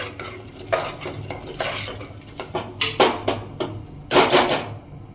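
Soaked lentils are stirred in a pot, with a spoon scraping and clinking against the metal up close in uneven strokes over a faint sizzle.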